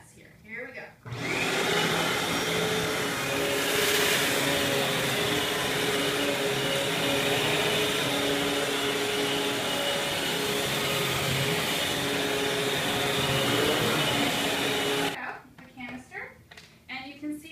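A Eureka AirSpeed Exact Pet upright vacuum cleaner runs with a loud, steady whine and rushing airflow for about fourteen seconds, starting and stopping abruptly on a hard floor with chip debris, with no talking while the motor runs.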